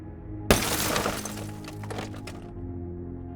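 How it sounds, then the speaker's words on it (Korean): Glass shatters loudly on the floor below in an abandoned motel. A sharp crash is followed by several seconds of tinkling, scattering shards that fade out. "바로 아래층에서 유리가 깨지는 소리가 들림"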